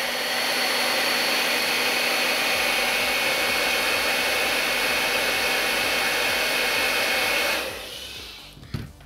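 An electric fan blows with a loud, steady broadband whoosh and hum close by, then abruptly switches off and winds down near the end, followed by a small click.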